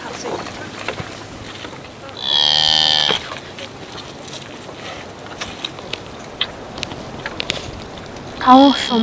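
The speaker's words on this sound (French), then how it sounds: "Tu fais venir les vaches par ici. Rapproche-les tranquillement." Cattle on a Mongolian nomad farm give a loud, sustained moo from close by, with another moo starting near the end, over a steady outdoor background of wind and faint rustling.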